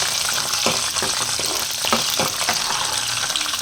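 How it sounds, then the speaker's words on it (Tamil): Garlic sautéing in hot oil in a pan for a pepper-cumin curry, with a continuous crackling sizzle and several spoon scrapes and stirring knocks. "அடுத்தது பூண்டு போட்டு நல்லா வதக்கிக்கலாம்"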